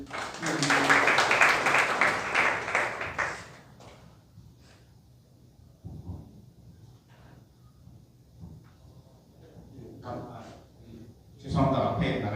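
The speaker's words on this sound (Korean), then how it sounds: "큰 박수로" An audience at a party members' meeting breaks into applause, a dense burst of clapping lasting a few seconds, then quieter room noise with a voice and a few scattered claps, and a short second flurry near the end.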